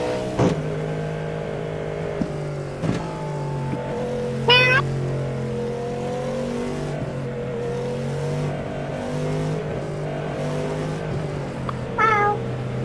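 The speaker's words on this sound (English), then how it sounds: "Sorry, my cat got on the mic." A cat meows twice close to a microphone, brief rising cries over a steady droning race car engine hum in the iRacing sim, with a sharp click early on.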